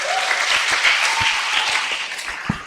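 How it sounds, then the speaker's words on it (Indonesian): Hands clap in group applause, a bright, fast flurry of overlapping claps, loud and close, with a few louder individual claps standing out as it winds down. "Tepuk tangan dulu."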